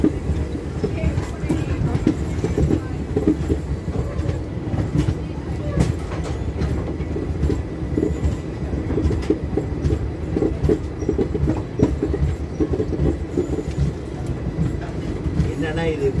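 A passenger express train running on rails during a journey from Chennai to Shirdi, with a constant dense rumble and rattling carriage noise throughout, occasional clicks, and people talking faintly inside.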